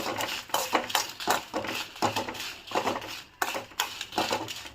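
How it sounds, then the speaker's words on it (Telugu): Dried red chillies roasting in a pan for a coriander spice powder, heard as a close, rhythmic run of metallic scrapes and clinks from stirring, repeating roughly every half second. "ఇప్పుడు ఇదే బాండిల్లో ఎండుమిర్చి వేసి వేపుకుందాము"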